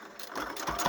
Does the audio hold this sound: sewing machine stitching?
yes